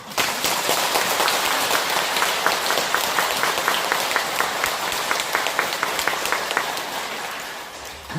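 Congregation at a Catholic prayer group memorial clapping together in sustained, even applause that fills the room and fades slightly toward the end.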